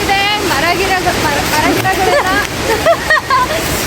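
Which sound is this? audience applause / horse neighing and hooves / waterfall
waterfall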